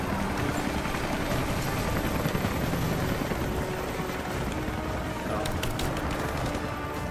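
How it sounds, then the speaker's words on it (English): Helicopter in the video game Rise of the Tomb Raider, a dense rumbling rotor roar filling the whole stretch, loud and steady with faint sharper clicks near the end. "Fight the helicopter."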